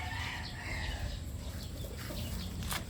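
A gamefowl rooster clucks in a backyard coop, faint and intermittent over steady background noise, with brief higher calls near the end.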